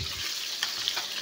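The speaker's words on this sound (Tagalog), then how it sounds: "Puro prito naman din eh sa kusina." Food sizzles and crackles as it fries in a countryside home kitchen, a steady, close, fairly loud hiss with a few brief pops and no voices.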